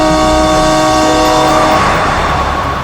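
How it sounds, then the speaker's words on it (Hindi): A loud, sustained horn blares nonstop for a few seconds, very close, with heavy traffic rumble underneath and no voices. "हॉर्न पे हॉर्न मार रहा है"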